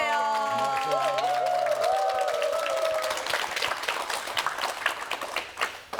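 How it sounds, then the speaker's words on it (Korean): A studio audience claps steadily to welcome Ulsan mayor Kim Doo-gyeom onto a Korean TV talk show set, the dense applause starting under a few greeting voices and thinning into scattered claps by the end. "자, 박수로 모시겠습니다."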